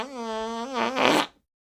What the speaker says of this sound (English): He looks like he's gonna let out a huge fart